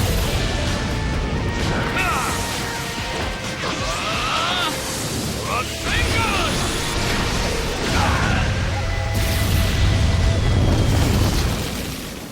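A fire-style dragon flame bomb attack in Naruto Ultimate Ninja Storm: continuous loud roaring, crackling blasts and booms that swell and crash over about twelve seconds, with shouted game voices mixed in.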